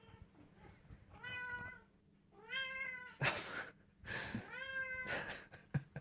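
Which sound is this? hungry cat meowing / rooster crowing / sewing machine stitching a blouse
hungry cat meowing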